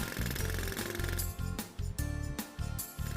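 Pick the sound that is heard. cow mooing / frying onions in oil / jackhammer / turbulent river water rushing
jackhammer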